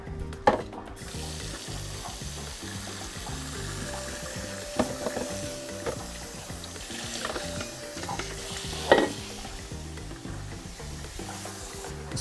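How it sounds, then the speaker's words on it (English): Water runs steadily into a sink while developed color film is rinsed, a continuous hiss with a few louder splashes and clinks, no talking. "I'm gonna rinse it out for 3 minutes in the sink"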